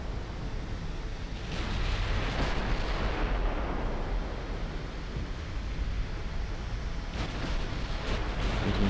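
A battleship blows up in a flash fire during an Ultimate Admiral Dreadnoughts naval battle, with a loud, sustained roaring blast that swells after a second and holds through the clip, with fresh surges near the end.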